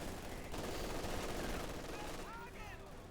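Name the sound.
machine gun firing in video game Company of Heroes 2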